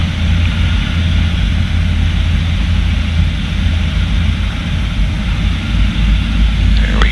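Steady loud engine and propeller drone from a Cessna 172 on the runway as power comes in for takeoff, heard from inside the cabin as a constant roar with no talk.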